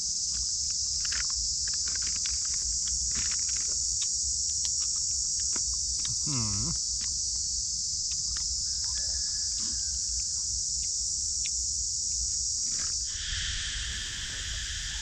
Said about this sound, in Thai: ช่วงเย็นๆเนี่ยเสียงจักรจั่นยังร้องกันระงมเลยครับ